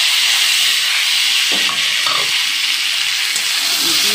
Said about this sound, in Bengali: দিয়ে এবার একটু ভালো করে ভাজা ভাজা করে নিচ্ছি।